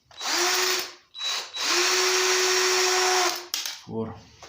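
Power drill driving out screws on a Fieldmann chainsaw during disassembly, two loud whirring bursts with a short pause between them, ending in a brief rattling stutter.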